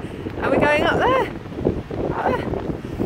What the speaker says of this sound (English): As you see, it's very windy.